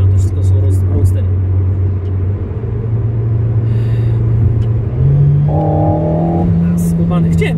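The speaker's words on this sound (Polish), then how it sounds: "To nie jest sztucznie generowany dźwięk z jakiejś membrany. To naprawdę wydech i silnik." Real exhaust and engine of an Alpine A110 Pure roadster heard from inside while driving: a loud, steady engine drone that climbs in pitch as the car accelerates through the gears, with people talking over it.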